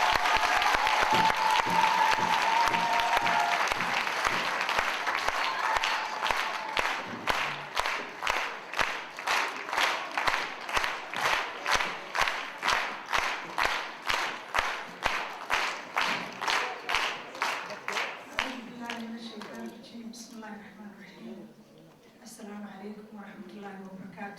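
An audience at an evening talk claps in sustained applause to welcome Dr. Hodan Ciise, wife of the prime minister, starting dense and loud, then settling into a slower rhythmic clap before fading, and a voice speaks briefly at the end.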